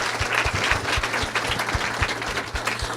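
A live audience at a Spring 2017 Race in America panel applauds a woman panelist, steady dense clapping at close range, with a low rhythmic thumping running beneath it throughout.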